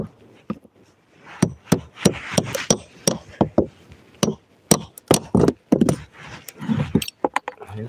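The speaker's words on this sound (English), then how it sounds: "And pop the nails out." A hammer pries nails out of roof joists in a series of sharp, close knocks and clanks, irregularly spaced, with metallic scrapes between strikes and no speech.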